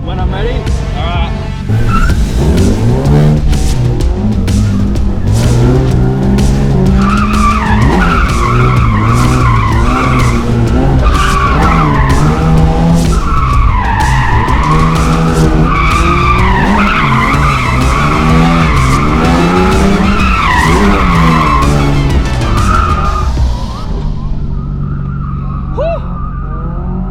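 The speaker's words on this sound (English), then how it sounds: "trying to drift as fast as you physically can on a very small track" Car drifting flat out around a very small track, tires squealing in long continuous skids as the engine revs rise and fall, loud and close throughout, ending in a short quieter tail.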